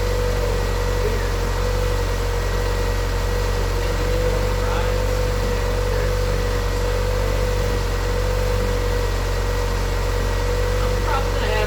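A 1988 Honda Accord engine idles steadily close by, its even hum overlaid with a thin, persistent whine from faulty power steering.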